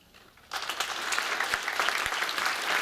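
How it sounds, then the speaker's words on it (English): An audience breaks into applause after a student reads a chapter aloud at a school writers week event; the clapping starts abruptly after a quiet moment and continues loud and steady. "So I'll take your clapping as a sign that you would want to read more"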